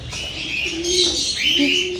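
Several pigeons or doves cooing and chirping nearby while waiting to be fed, a few low coos rising and falling in short overlapping calls over steady background noise.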